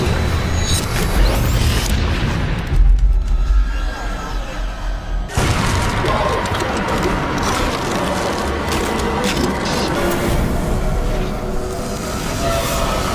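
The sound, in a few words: fiery explosion in an animated video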